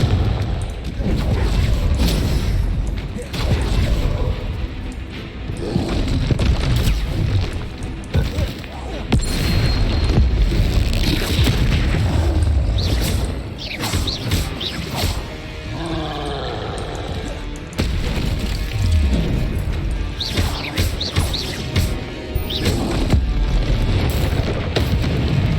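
Hogwarts Legacy combat, with the Confringo fire spell cast among other spells in a dungeon battle. Repeated booming blasts and bursts roll continuously over a roaring background, with brief vocal sounds in between.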